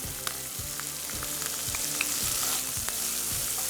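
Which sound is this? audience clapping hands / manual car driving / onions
onions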